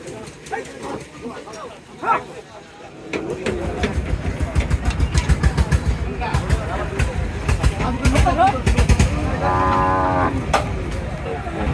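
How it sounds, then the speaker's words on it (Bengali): Cattle arrive by vehicle and cart at the Hazratpur cattle market, with rumbling engines, a steady crowd murmur and voices close by, and occasional animal calls and a dog bark amid the bustle. "আস্তে আস্তে করে গরু আসতেছে, গাড়িতে গাড়িতে গরু আসতেছে"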